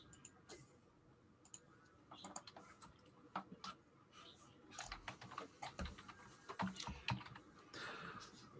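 Computer keyboard keys clatter in irregular bursts of quick, crisp taps, moderately close, with a faint voice murmuring in the background at times.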